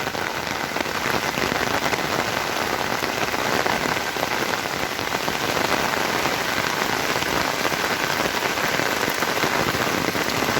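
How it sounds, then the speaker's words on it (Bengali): Heavy rain pours down steadily, a dense continuous patter drumming on surfaces close by, with no voices. "জানি না কতক্ষণ পর্যন্ত এই বৃষ্টি হয়"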